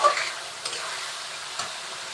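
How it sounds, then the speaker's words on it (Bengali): Chicken meat fries in a pan, a steady soft sizzle with a few brief stirring scrapes at intervals. No one speaks. "কিছুক্ষণ ভাজা হয়ে গেল এখন আমরা মশলা দিব"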